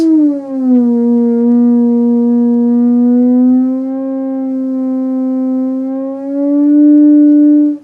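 A single sustained electronic theremin tone with a smooth, wavering pitch that slides down, then settles and holds steady, rising slightly at the end. No talking.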